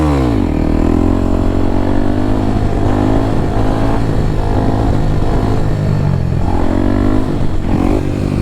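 A motorcycle held in second gear for a wheelie revs hard and loud, its engine note rising and surging steadily close to the microphone throughout, with no talking.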